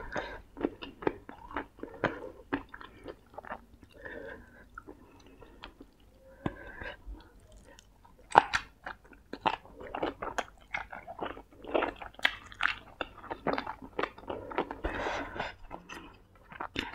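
Chewing som tam papaya salad with palo braised pork, close, wet crunchy bites and smacking in irregular bursts throughout, with quiet background murmur.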